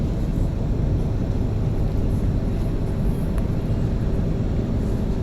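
A 1997 Ford Expedition drives with overdrive switched off and the torque converter locked, giving a steady, loud, close engine drone and road rumble from inside the cabin, unbroken and with no talking.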